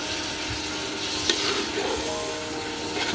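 Spice paste for a Bengali-style chicken curry, with cumin powder and bay leaf, sautés in a pan, giving a dense continuous sizzle with soft stirring scrapes and no voices.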